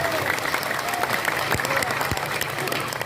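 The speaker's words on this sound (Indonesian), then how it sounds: "Tepuk tangan dulu dong buat desa Nanggela, luar biasa." Village audience in Nanggela clapping at a religious gathering in Cirebon, a fairly steady wash of applause with some crowd noise and possible voices mixed in.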